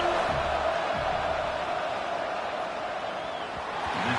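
Dense stadium crowd roar at a college football game during a field goal attempt, a continuous loud wash of many voices that holds steady throughout.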